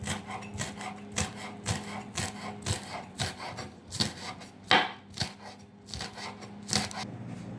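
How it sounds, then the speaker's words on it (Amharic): A knife chops green onion leaves on a cutting board in a steady series of sharp close taps, roughly two per second, with no voices. "አሁን የሽንኩርት ቅጠሉን ልከትፍ ነው።"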